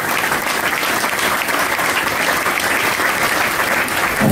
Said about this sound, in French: remercier Nathalie et Joseph de To Invest, qu'on peut applaudir aussi.